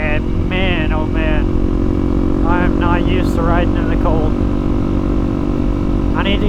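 A Honda CRF300L motorcycle rides on a cold, misty morning, its engine droning steadily and loud throughout while a rider talks over it in bursts.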